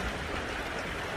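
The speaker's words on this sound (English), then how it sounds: "The rain continue again, and it's cloudy here in our house." Steady rain falling outside a house during Typhoon Paeng, a continuous broadband hiss of dense drops without pauses, fairly near and even in level, with no voices.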